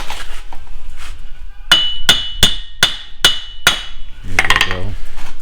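Hammer tapping on a 2008 Pontiac Grand Prix wheel bearing hub assembly, six loud ringing metallic strikes in an even rhythm, close up, followed by a short clattering scrape.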